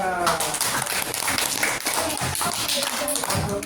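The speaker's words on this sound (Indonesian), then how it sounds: "Tepuk tangan." Children clap their hands in a classroom during an Islamic religious education lesson, a busy patter of overlapping claps that continues throughout beneath talking voices.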